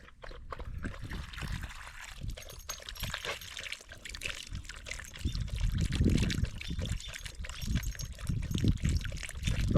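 Water pours and trickles for a dog to drink at a lakeside campground, a continuous splashing flow that grows fuller and louder toward the end.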